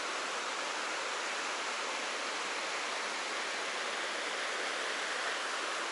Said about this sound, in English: Some rapids behind the trees.